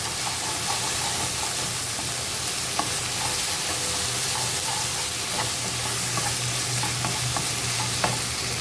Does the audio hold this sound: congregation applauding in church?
no